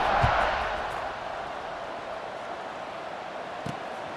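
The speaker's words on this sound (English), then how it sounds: "this crowd is buzzing after that last score" Stadium crowd buzzing after a touchdown in a college football video game, a steady broad murmur that swells at the start and then holds at a moderate level.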